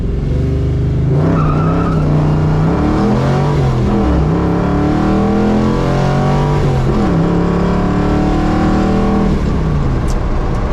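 A 1982 Mustang GT fitted with 4.10 gears is held at a 3,000 RPM stall, its engine revving loud and close in a sustained roar that rises and dips, with no talking.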